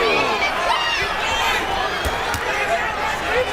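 Boxing arena crowd during a knockout fight, a dense continuous roar of cheering and chatter with sharp shouts rising above, under overlapping commentary.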